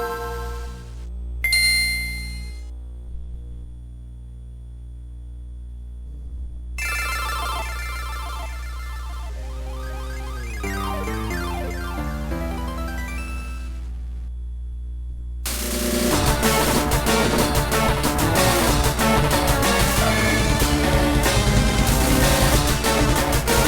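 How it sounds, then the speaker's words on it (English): An original Game Boy Advance with an IPS modded screen playing game audio: a startup chime, tonal chiptune beeps, then denser, louder music over a constant low electrical hum, with no talking. "Here is what the original Game Boy Advance with this IPS modded screen sounds like."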